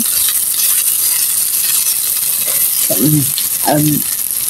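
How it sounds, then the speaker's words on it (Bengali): Eggplant (brinjal) slices fry in a pan with raw onions, giving a loud, steady high-pitched sizzling hiss throughout, while a short vocal sound breaks in near the end. "এই তো আমার বেগুন ভাজিগুলো প্রায় হয়ে গেছে।"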